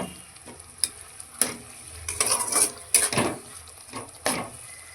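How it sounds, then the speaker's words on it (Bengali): Spices with tomato, coriander, cumin, turmeric and salt sizzle and fry in a pan while being stirred for a Bengali fish curry, with a steady hiss broken by several close scraping strokes of a spoon against the pan. "এবার সব মশলাকে ভালো মতো কষিয়ে নেব।"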